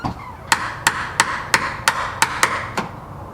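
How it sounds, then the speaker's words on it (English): A chisel being tapped into a wooden door edge to make room for a smart lock, giving eight sharp, evenly spaced knocks close up over about three seconds. "I need to get a chisel, and I'm gonna chisel out just the bottom part"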